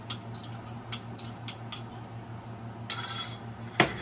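Egg yolk being beaten into egg whites with a beater in a kitchen, a steady low motor hum under repeated light clinks and taps of metal against a bowl, with a louder rattle near the end.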